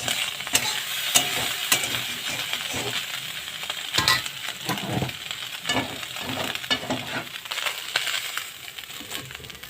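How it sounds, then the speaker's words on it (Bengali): Small river fish frying in hot oil in a pan for a bitter gourd dish, giving a steady close sizzle with scattered crackles and spatters, no voices. "মাছটা আমি এখন ভেজে নিচ্ছি"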